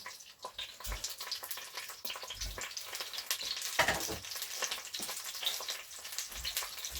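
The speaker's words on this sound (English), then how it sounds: "And they're sizzling, which is a good sign." Steady crackling sizzle of sausages frying in an air fryer, close and continuous, with occasional soft thumps and pops.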